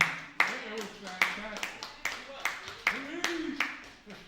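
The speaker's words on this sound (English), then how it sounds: "Let's clap it up for Attorney Maurice Dane" A few sparse, distinct claps land at a slow, uneven rhythm for an attorney guest at a youth event, close and fairly quiet, with people talking between the claps.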